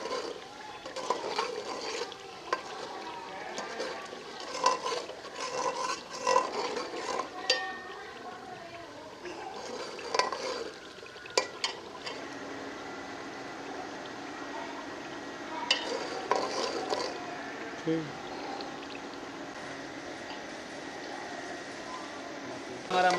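Masala frying in a pan ahead of adding boiled white beans (lobia), with soft, intermittent scraping and stirring plus a low steady sizzle; a voice talks over much of it.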